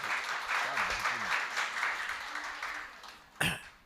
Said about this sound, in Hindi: एक बार इसके लिए जोरदार तालियां और बजा दीजिएगा